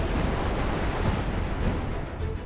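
Massive ocean waves roar in a steady, dense wash of crashing surf with a heavy low rumble, loud and continuous throughout, like a tsunami sound effect.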